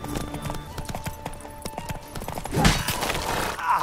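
Horse hooves clip-clop in a quick, steady rhythm during horseback combat in a video game, with a burst of clashing noise partway through.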